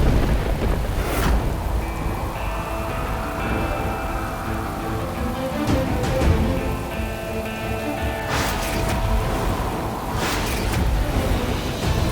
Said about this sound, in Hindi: बाहर बारिश हो रही